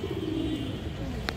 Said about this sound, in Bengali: এগুলো কিন্তু দর্শক উঠতি লাইনের কবুতর